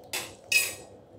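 A spoon stirring rice kheer with cardamom powder in a pot, making two short, bright metallic clinks a moment apart against a quiet background.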